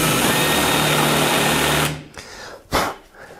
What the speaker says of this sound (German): Ihr spannt euch einfach einen 10er Bohrer ein und senkt somit